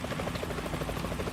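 Helicopter rotor in Metal Gear Solid 2, a rapid, steady chopping beat heard at moderate distance, continuous and unaccompanied by speech.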